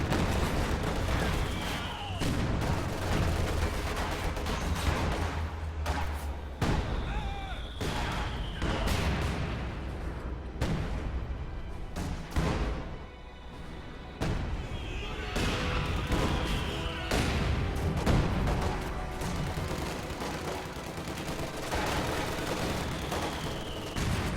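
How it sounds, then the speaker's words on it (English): A Katyusha rocket barrage in a strategy war video game, with repeated booming rocket impacts and crackling gunfire layered over a continuous battle din, loud and dense throughout. "Nice Katyusha barrage right there."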